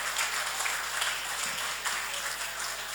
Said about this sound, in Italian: un grande applauso anche per loro